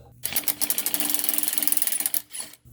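A ratchet wrench cranks a 14 mm bolt on a 2009 Subaru Forester during clutch fork work, a fast, even run of close mechanical clicks lasting about two seconds, followed by a short scrape.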